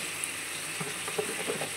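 Oil frying in a wok with a little salt added, a soft steady hiss with a few faint stirring clicks near the middle and end, fairly quiet and without talk.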